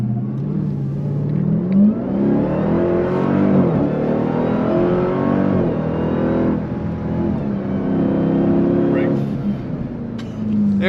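A 2023 Dodge Durango Hellcat's supercharged engine roars as it accelerates hard out of a turn, pitch climbing and dipping through gear changes, loud and close for the whole stretch, with a driver's voice partly over it.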